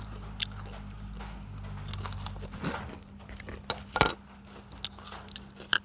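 Crispy baked purple sweet potato chips are bitten and crunched up close, with scattered sharp crackling bites and chewing after a low hum cuts out.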